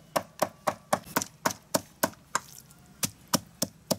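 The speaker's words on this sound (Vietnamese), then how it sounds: "Băm cái này thì cũng phải là nghệ thuật đấy, biết băm phải băm giòn, băm phải kêu." Dog meat is chopped with a heavy knife on a board, about a dozen crisp, sharp thuds struck in a steady, quick rhythm, close and loud, with no talking.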